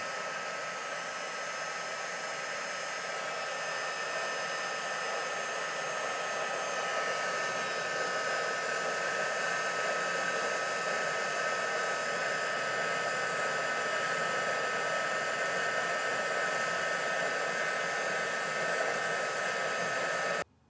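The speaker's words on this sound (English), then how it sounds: "So I'm then going to come in with my heat gun. And I'm just going to start drying this off." A heat gun blows without a break for about twenty seconds, drying embossing powder in a craft project, a steady close whooshing hiss that cuts off abruptly at the end.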